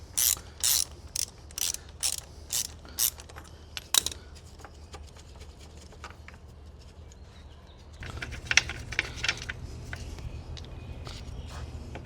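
A hand ratchet with a 19mm socket works on the radiator of a 2001 Toyota Camry, first in a run of loud, evenly spaced clicking bursts, then in quicker, fainter ticking over a low background hum.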